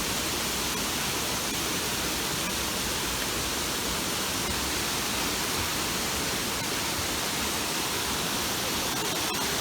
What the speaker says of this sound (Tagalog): ang ganda ng tunog ng tubig talaga